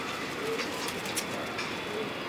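Soft, low cooing of pigeons repeats a few times over a steady background hum, with faint voices murmuring nearby.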